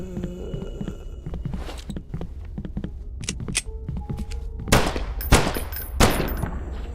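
Gunshots ring out in the horror game Deathbloom, a few sharp loud bursts near the end over a dark ambient hum and scattered softer game noises.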